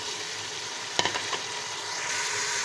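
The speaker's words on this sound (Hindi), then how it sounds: "अब हम इसका कलर चेंज होने तक इसको फ्राई करेंगे गोश्त को" Meat sizzling in a pan with cumin and garlic-ginger paste, a steady bright frying hiss with a brief clatter of stirring near the middle, no voices.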